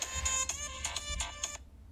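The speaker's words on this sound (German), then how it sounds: "das war mein Handy, Entschuldigung." A mobile phone plays a bright, tonal ringtone in a repeating melodic pattern, moderately near, then cuts off abruptly before the end over a low background hum.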